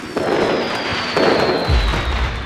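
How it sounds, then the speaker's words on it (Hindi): Fireworks crackle and fizz in quick bursts, a few sharp pops followed by a deep boom near the end. "वाह, कितनी बढ़िया आतिशबाजी है।"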